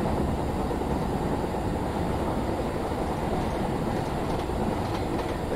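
A train running in a train simulator game gives a steady, loud, broadband rumble with faint rail clatter, continuous and unchanging throughout.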